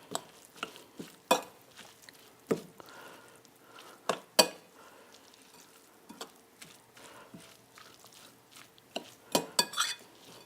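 A spoon stirs a caraway seed mixture for a Reuben casserole in a bowl, giving scattered scraping clinks and taps at an irregular pace, close and fairly quiet.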